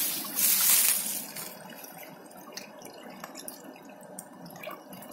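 Hands being washed under water running from a village fountain, with a brief louder splash followed by steady trickling and dripping, close and with no talking.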